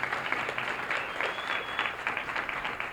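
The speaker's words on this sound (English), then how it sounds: "Can we give her a round of applause?" An audience at a state children and family services adoption celebration claps steadily, a dense, even round of applause from a crowd, continuous and fairly close for the whole stretch.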